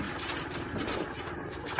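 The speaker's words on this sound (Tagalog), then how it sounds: "Yan, ito yung backhoe nila. Nagpe-prepare na." Backhoe working on the construction of a farm-to-market road, heard as a continuous mechanical rumble with rhythmic clanking and ratcheting, steady and moderately loud throughout without talk.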